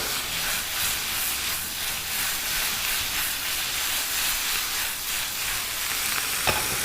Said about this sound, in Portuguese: para ela cozinhar nesse vapor dessa água